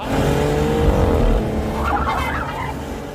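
A car driven recklessly in a drama scene, its tires screeching and squealing in a loud skid over a low engine roar.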